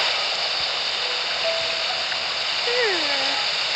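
In the video game Genshin Impact, a waterfall gives a constant rushing roar, steady and fairly loud, with a few faint tonal sounds drifting over it.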